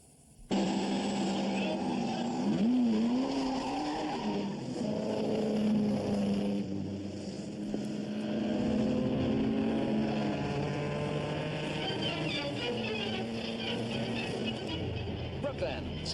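Speed cars roar past at the final meeting of a racing season, a loud, continuous engine drone with rising and falling pitch as the cars sweep by. Talk runs over it.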